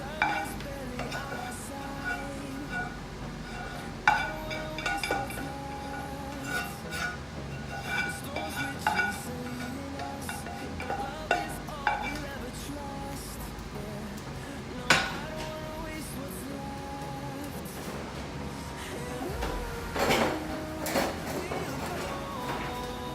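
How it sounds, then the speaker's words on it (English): Browned ground turkey and onion are scraped and spooned from a pan into a crock pot, making repeated clinks and scrapes of utensils on cookware along with some soft sizzle, with a person talking over it. "Just browned the turkey and the onion, and you add that to your crock pot"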